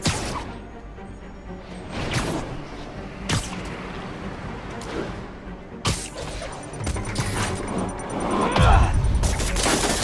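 Bomb blasts in Marvel's Spider-Man on PS4 come as a chaotic run of sharp bursts, crashes and whooshing impacts over about ten seconds. The sound is loud and busy, with brief voice fragments mixed in.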